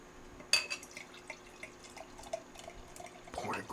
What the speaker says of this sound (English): Pour it aggressively.